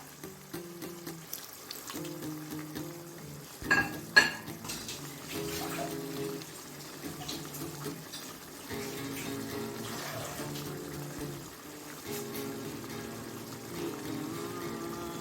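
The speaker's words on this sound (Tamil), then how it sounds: "அது கூட லைட்டா வந்து கொஞ்சம் வாட்டர் ஆட் பண்ணிக்கிறேன்." Water poured into a pan of kasuri methi malai chicken, a faint steady splashing trickle lasting several seconds under faint background tones, with no talk.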